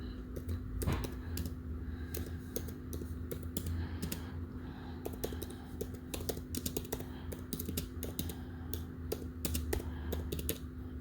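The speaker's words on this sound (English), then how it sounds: "I'm typing with one hand, that's why it's taking me so long" Someone types on a computer keyboard using only one hand, producing steady irregular key clicks throughout with a constant low hum underneath.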